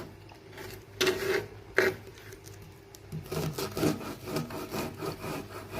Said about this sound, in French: Je coupe des petits morceaux comme ceci.